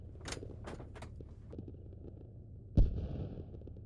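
Tank ammunition cooking off in the video game Squad, a single sharp loud blast near the end followed by a ringing high-pitched tail, after a stretch of quieter rumbling combat noise.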